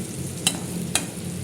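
Dried brinjal and turkey berry fry in hot oil in a pan. A steady, close sizzle is broken by two sharp crackles.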